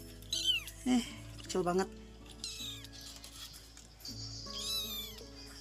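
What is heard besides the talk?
purebred kitten meowing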